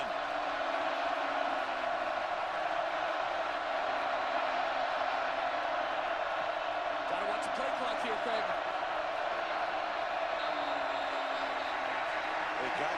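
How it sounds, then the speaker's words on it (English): Dense, sustained roar of a football stadium crowd during a Baylor Bears versus Kansas State Wildcats college game, building steadily on a 3rd down with brief swells and scattered shouts throughout. "Joey, this crowd is up. It's alive. Listen in on 3rd down and 10."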